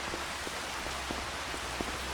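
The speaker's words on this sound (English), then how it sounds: "it's supposed to rain through most of the night now" Steady rain falls in the Farming Simulator 25 video game, a dense even hiss with scattered soft drop ticks throughout, no voices.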